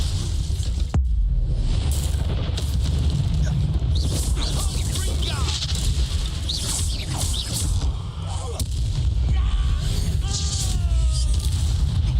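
Fire spell Incendio cast in Hogwarts Legacy on PC, a loud, dense burst of whooshing flame and crackling impact that fills the scene, with game voices and ambient camp sounds mixed in.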